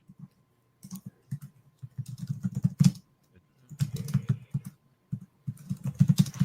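Computer keyboard typing in bursts of quick, irregular clicks separated by short pauses, fairly close and clear, with no voices.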